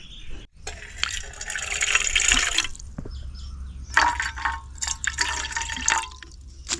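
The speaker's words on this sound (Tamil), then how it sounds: "இப்போ கொஞ்சமாக தண்ணி ஊற்றிக்கிடுவோம்." Water splashes and trickles into a metal cooking pot in uneven bursts, with short pauses between pours and a low background hum.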